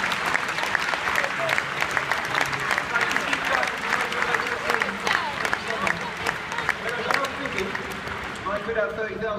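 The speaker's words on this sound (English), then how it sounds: "Can I have a round of applause?" An audience at Gadget Show Live at the NEC breaks into sustained clapping, a busy crackle of many hands, with some cheering voices mixed in.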